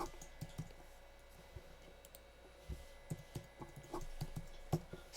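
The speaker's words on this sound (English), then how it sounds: "I'm just going to type that in." Quiet, close clicks of keys being typed on a computer keyboard, arriving in short irregular bursts over a faint background hum.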